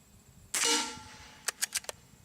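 A suppressed .22 rifle firing 60 grain bullets into a steel bullet trap: one loud sharp crack with a ringing tail, then a quick run of four fainter snapping shots or impacts.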